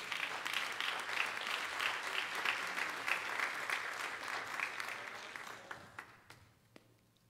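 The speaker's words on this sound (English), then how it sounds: "I think they deserve another round of applause." A church congregation applauds after a musical performance, sustained clapping at moderate level that gradually thins out and fades toward the end, with a few scattered final claps.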